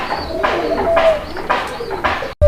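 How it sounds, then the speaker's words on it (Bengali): Golla pigeons at a breeding farm coo in repeated low, rolling phrases, several calls in a row, close and clear, ending with a brief cutoff. "দেখেন কবুতর দেখেন"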